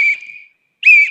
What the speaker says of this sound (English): So now I'm going to make one sound with this whistle.